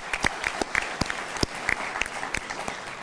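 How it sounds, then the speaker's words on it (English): An audience at the opening address of the Global Peace Convention 2012 applauds, with distinct, fairly spaced claps rising and falling in a loose, moderately loud patter. "A round of applause"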